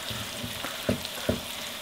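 Onion and garlic frying in a pan, a steady soft sizzle broken by a few sharper clinks and scrapes of stirring, close and fairly quiet, with no talking.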